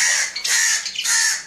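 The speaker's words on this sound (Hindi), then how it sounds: "ये देखिए कौवा ने खिड़की में आके बैठा हुआ और शोर मचा रहा है" A crow perched at a window cawing loudly and close, three harsh raspy calls in quick succession with no talking.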